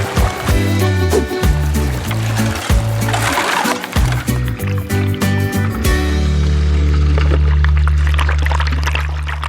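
A bucket of dirt and water is tipped out for gold prospecting, giving a rushing, splashing pour that swells in the second half over a heavy, droning low background.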